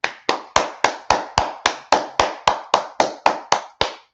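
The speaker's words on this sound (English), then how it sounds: "we're going to clap it up" A single person claps hands loudly and close at the stock market open, about fifteen crisp, evenly spaced claps in a steady rhythm with nothing else heard.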